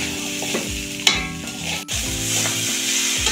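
Basmati-style pulao rice being fried with spices in a pan for egg pulao, giving a continuous sizzle with repeated scraping stir strokes and one brief dip in the sound partway through.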